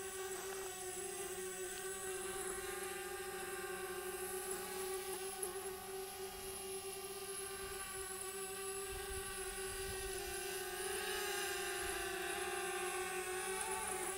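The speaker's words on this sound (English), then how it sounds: "you can just use your Jedi Force to basically move the drone wherever you want to" A DJI Spark drone hovers and flies nearby with a steady, high, buzzing whine of small propellers that holds an even loudness throughout, with no talk.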